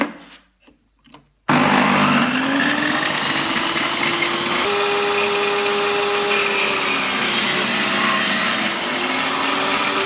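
A power saw starts with a loud whine and cuts a groove in wood for a beehive, a sustained, close, high-pitched buzzing roar after a few faint knocks.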